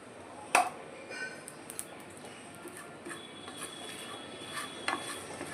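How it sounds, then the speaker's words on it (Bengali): Chana dal, sesame and spices dry roasting in a pan while being stirred, with faint light scraping and scattered small clicks of seeds and a utensil, one sharper knock near the start. "এইবারে এই স্টেজে আমি এটাকে নাড়াচাড়া করে ড্রাই রোস্ট করব"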